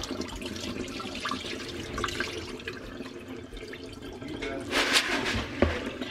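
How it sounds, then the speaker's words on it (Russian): Cloudy rinse water is poured off soaking food in a kitchen. It makes a faint, uneven splashing and gurgling trickle that briefly swells louder near the end. "Вот это все, что всплыло, сливаю."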